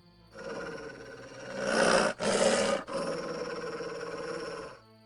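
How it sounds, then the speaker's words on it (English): A dog in The Witcher video game lets out a low, sustained growl. It holds steady at close range, swells louder midway, breaks off briefly twice, then resumes and fades out. "That dog seems to be looking for something."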